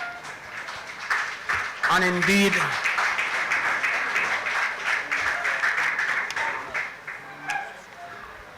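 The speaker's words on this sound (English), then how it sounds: "Give it a round of applause for him." Symposium audience applauding a speaker, a sustained wash of clapping that swells early and slowly fades, with a voice talking over it.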